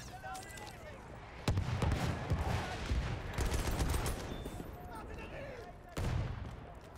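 Artillery and gunfire in the World War I shooter Battlefield 1, heavy booming impacts and crackling shots rolling through a battlefield din, with a voice talking over the action.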